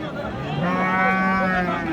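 A Sahiwal cow at a cattle market in Dinajpur lets out one long, loud moo close by, rising and holding before fading.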